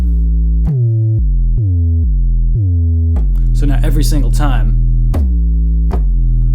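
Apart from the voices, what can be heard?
Moog 808 synth bass with pitch drop on every note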